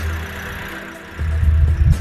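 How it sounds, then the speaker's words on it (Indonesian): A 2018 Daihatsu Sigra 1.2 R with a manual gearbox idles with a steady low engine hum that swells somewhat louder partway through, with no talking over it. "Dan untuk suara mesinnya pun di sini masih cakep banget ya"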